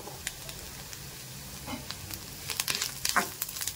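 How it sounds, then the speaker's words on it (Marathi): Green chillies and garlic sizzle softly in hot oil for a raw mango chutney, a steady low crackle with sharp spatters and pops that grow busier toward the end. "मिरची चांगली तळल्या गेली ना की आपण टाकणार आहे त्याच्यामध्ये अर्धा चमचा हळद."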